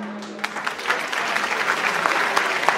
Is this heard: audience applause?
yes